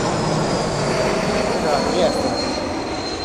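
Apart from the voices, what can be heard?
airplane landing at Rome Fiumicino airport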